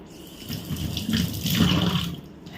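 Water poured into a pot of potato and pointed gourd curry, a steady close splashing pour that swells midway and tapers off, with no talking.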